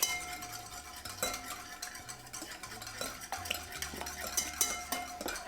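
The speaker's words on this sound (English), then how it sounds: "We're gonna give this a quick little whisk." Pumpkin pie filling for a gluten-free pie being whisked in a bowl, with quick rhythmic clinks and taps of the whisk against the sides over a low hum, no voices.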